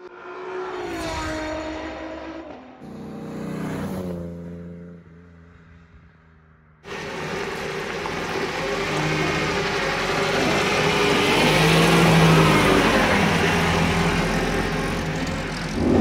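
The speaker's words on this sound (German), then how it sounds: "Aber ihr hört diese irre 8-Zylinder-Maschine." A 1935 Bugatti Type 46 S cabriolet with a supercharged eight-cylinder engine, loud and close. It revs in rising and falling bursts, goes briefly quiet, then returns as a sustained driving roar that swells and holds.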